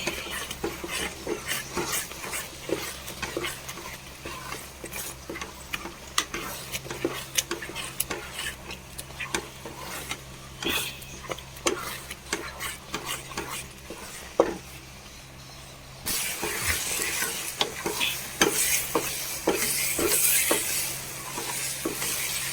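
A thick Vishu katta mixture with dry ginger and cumin powder is stirred in a pan, spoon scraping and tapping in a steady rhythm over a low hum, getting busier toward the end.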